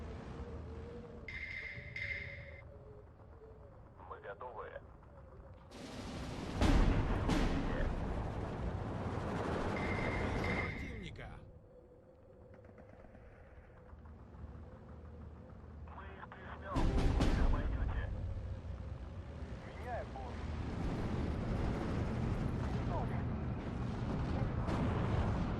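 Avtomat rifles firing in Steel Division 2, a World War II strategy game, as a distant rumble of battle with repeated surges of gunfire and explosions, under a faint radio-like tone.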